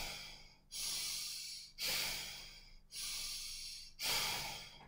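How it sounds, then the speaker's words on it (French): A yoga breathing exercise: slow, deep, hissing breaths in and out through the nose, four long breaths in steady alternation, close and fairly quiet, with no talking. "Encore trois respirations."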